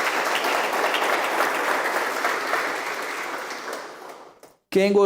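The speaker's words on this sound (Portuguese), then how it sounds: "Pode aplaudir a palavra do Senhor." A church congregation applauds during a sermon, a dense sustained wash of clapping that fades out near the end, cut off by a brief burst of a voice.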